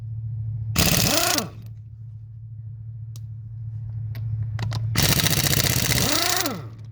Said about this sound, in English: the reason the impact sounds a little bit weak is we're using probably about 150 foot of hose